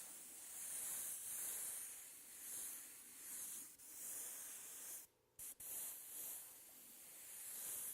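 An airbrush hisses steadily while laying candy paint onto a helmet, a soft continuous spray that swells and fades in passes, with brief pauses where the trigger is released.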